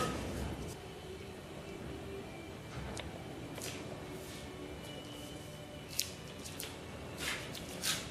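Cardboard from a recycled packing box being folded and creased for an RC Nutball model, giving soft, scattered crackles and scrapes with a few sharper creaks near the end, close up and fairly quiet with no talking.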